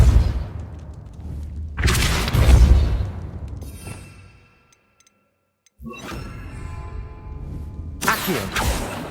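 Depulso, a force-push spell in the Hogwarts Legacy video game, is cast repeatedly. Loud booming blasts with a rumbling low end come in two long bursts separated by a brief near-silent gap.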